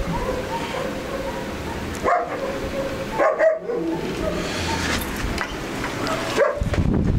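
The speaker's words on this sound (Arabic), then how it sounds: "شفتوا مشمش وشفتوا مشمشه ديت كلاب لولو" A Pomeranian dog barks a few times in short bursts, with some yips mixed in, fairly close, over a steady background hum.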